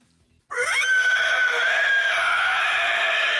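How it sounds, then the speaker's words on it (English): A creature screeches in a fantasy tabletop game session: after a brief quiet, a loud, harsh, horse-like shriek bursts in and holds for about three seconds. "sound of that creature screeching yet again begins to play throughout the night"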